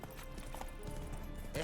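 The horse Roach in The Witcher 3 video game, its hooves giving a quick, brief run of clip-clop steps, fairly close, with a short snort or whinny at the end.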